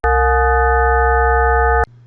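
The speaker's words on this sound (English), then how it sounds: "Example 13 presents 7 partials, 1, 7, 11, 13, 19, 23, and 27." A synthesized steady tone built from seven partials at harmonics 1, 7, 11, 13, 19, 23 and 27, sounding loud and unwavering for almost two seconds before cutting off abruptly into near silence.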